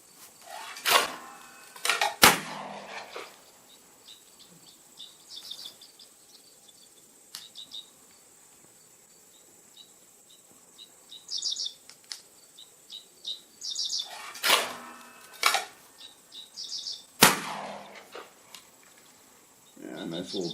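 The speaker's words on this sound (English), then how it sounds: "So let me see if it breaks a couple clay pigeons." A Mossberg 940 Pro Field walnut semi-auto shotgun fires at clay pigeons outdoors, several sharp, loud shots cracking apart with quiet gaps, amid chirping birds and insects.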